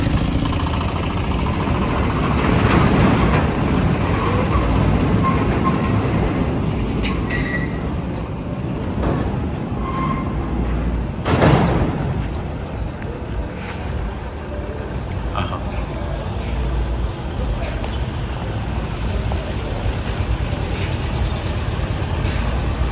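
A Leopard Holidays tourist bus drives past, its engine a loud, steady, low rumble that holds throughout with a brief surge midway.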